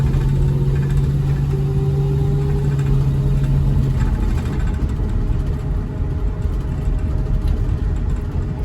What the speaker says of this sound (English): It makes bus noises.